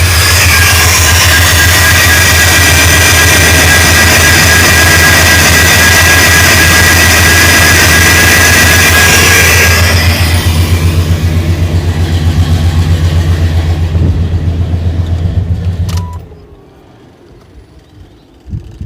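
Car engine running with a Flex-a-lite 280/295 electric cooling fan whirring alongside, a loud continuous broadband roar and hum that thins partway through, then cuts off near the end, leaving quiet.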